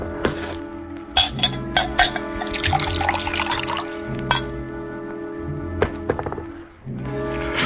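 Water dripping and gently sloshing outside, with repeated soft drips and liquid thunks at moderate closeness, fairly steady with small splashes scattered through, heard alone without voices, in the setting of an old-time radio drama.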